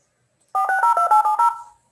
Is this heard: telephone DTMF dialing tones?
yes